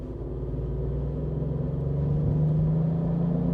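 Turbocharged Volkswagen Up! GTI engine pulls steadily under acceleration, a low droning rumble with a rising harmonic tone that builds gradually and stays close and continuous throughout, with no voices.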